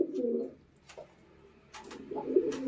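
Two matching adult Giribaz pigeons cooing close by, with low, throaty coos in two bursts separated by a quieter pause.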